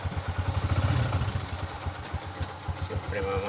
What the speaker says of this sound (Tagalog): painitin muna natin yung makina